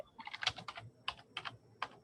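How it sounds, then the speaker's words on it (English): Rapid clicking of a computer keyboard during an online webinar, several quick bursts of keystrokes with short pauses between them, fairly faint and close to the microphone with no talking. "And Michael, I'm going to mute you because I can hear you typing"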